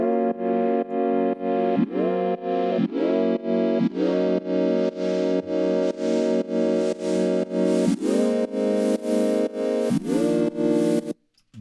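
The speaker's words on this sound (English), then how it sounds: "I just automated the cutoff frequency of my synthesizer with white noise" A synthesizer layer in a beat pulses in rhythmic, sustained buzzy chords with occasional pitch bends. An automated filter cutoff gradually opens, so the sound grows steadily brighter before cutting off abruptly at the end.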